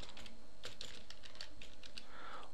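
Code typed on a computer keyboard while writing a Python print statement, heard as a steady run of quick, close key clicks with no talking.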